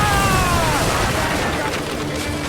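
Naval cannon broadside fire from sailing warships in Assassin's Creed Black Flag, a dense roar of overlapping booms and blasts under shouted crew voices, loud and continuous through the short span.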